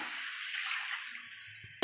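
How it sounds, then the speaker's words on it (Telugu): Water pours steadily into a pot of spiced bagara rice cooking on the stove, a quiet rushing splash that tapers off and ends with a light clink. "వాటర్ అయితే పోసేస్తున్నాను"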